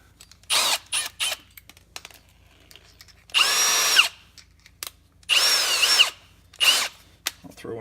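A power drill drives a self-tapping pan head screw into a Mustang during a ghost light install, sounding in several close, loud whirring bursts, two longer runs between short pulses, with no talk.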